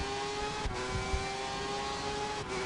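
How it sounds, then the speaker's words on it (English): Race car engine in a sim-racing game on a Belgian Grand Prix circuit, revving up through the gears with a strong engine tone and brief dips at the gear shifts, loud and close, no voices. "he'll try and rev it up all the way to 6th gear"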